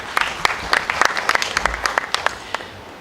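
An audience at an insurance company's sales awards event applauding in Mombasa, a modest crowd of scattered, distinct claps that carry on steadily for a few seconds.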